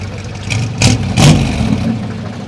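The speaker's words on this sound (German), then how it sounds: "Was ihr da gerade gehört habt, ist ein Dodge." A Dodge car engine at a tractor meet is revved in two or three quick, throaty bursts over a steady idle, close by and loud with no talking.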